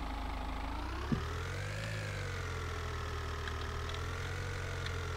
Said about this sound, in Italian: Entra, chiudi lo sportello, accendi il motore.